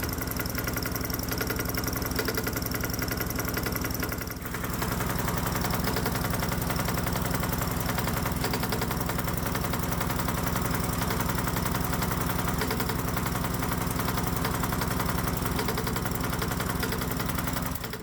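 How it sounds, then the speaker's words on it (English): A hot bulb semi-diesel lawnmower engine runs steadily on pure diesel, idling with a continuous mid-pitched thrum, faint knock and vibration, and a brief dip in the sound near the start. "Fast forward 10 minutes and the engine's definitely running on pure diesel"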